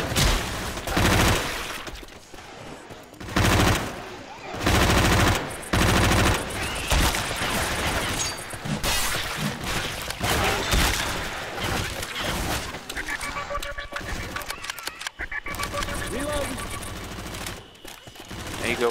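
Video-game gunfire aimed at a zombie in a horde-survival match: sustained, loud bursts of shots with brief gaps, close and dense, mixed with in-game noise and occasional voices underneath.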